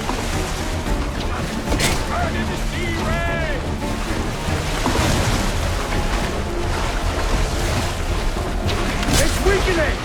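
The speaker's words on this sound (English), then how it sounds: "The blast has torn the rope!" A cannon-style explosion in the Assassin's Creed 4 naval harpooning demo tears through a rope, a deep booming blast amid constant ocean waves, creaking boat ambience and continuous game music and voices.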